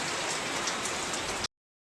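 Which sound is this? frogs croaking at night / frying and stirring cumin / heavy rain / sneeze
heavy rain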